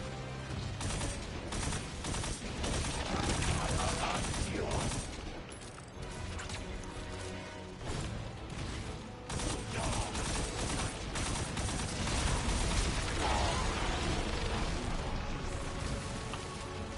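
A weapon in Destiny 2: The Final Shape fires steadily amid the fuzzy crackle of a firefight, with bursts and booms layered into a continuous, fairly quiet barrage.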